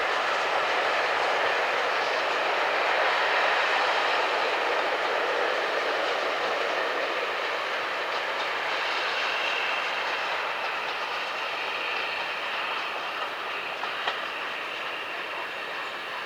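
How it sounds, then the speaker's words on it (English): Steam locomotive 4160 drifts downgrade into Watchet station hauling a passenger train, a steady broad rumble and rolling wheel noise that holds level throughout with a faint click near the end. "we arrive in time to see 4160 drifting downgrade towards the station with the 3:45 p.m. Minehead to Bishop's Lydiard service."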